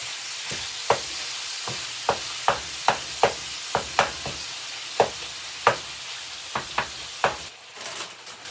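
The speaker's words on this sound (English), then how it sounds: "Stir this up a little." Sauce for Italian stuffed peppers sizzles steadily in a pan while a utensil stirs it, giving a string of sharp scraping clicks at an uneven rhythm, close and moderately loud, with no talking.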